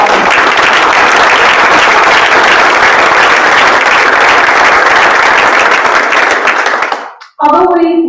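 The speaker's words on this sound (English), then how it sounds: "So let's give another round of applause for our" Loud, sustained applause from a large audience at a scholarship awards ceremony, dense clapping filling the room for about seven seconds before cutting off, followed by a brief voice.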